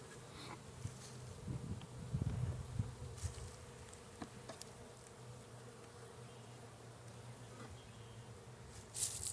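Honeybees drone steadily and close up throughout a March beehive inspection, a continuous layered hum swelling briefly early on, with a few sharp clicks and scrapes as hive frames are handled; no one speaks.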